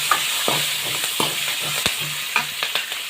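Fennel seeds and chillies sizzle as they go into hot oil with cumin, a steady frying hiss broken by sharp spoon-stirring clicks and scrapes against the pan.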